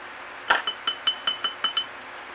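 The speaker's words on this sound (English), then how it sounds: "Making sure I mix it up really good." A stick clinks repeatedly against a glass container while stirring reborn doll paint mixture, about eight sharp, evenly spaced taps after one louder knock, close and alone in a quiet room.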